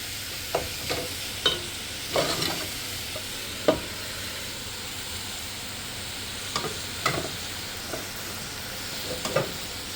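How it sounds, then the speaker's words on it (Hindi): Eggs poured over a rice dish with spring onion fry in a pan, a soft continuous sizzle marked by scattered taps and stirring clicks from a utensil. "और अब मैं इसके अंदर डाल दूँगी हमारे अंडे।"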